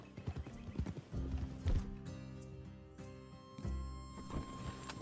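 Horses' hooves clip-clop in Red Dead Redemption 2, a quick irregular patter of close, fairly faint steps with some harness jingle, slowing and stopping before a final few shuffles.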